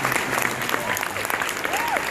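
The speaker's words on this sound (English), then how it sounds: "Yeah, we can applaud that." A crowd at a Chicago Comic Con Guardians of the Galaxy panel claps in a dense, steady burst of applause filling the hall, with a voice over the sound system carrying through it.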